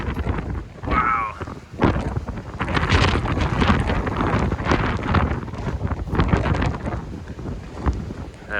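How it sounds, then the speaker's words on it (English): Strong wind roars across the microphone during a southern Ontario blizzard, loud buffeting gusts rising and falling continuously, with a brief voice heard early on. "That wind's ripping."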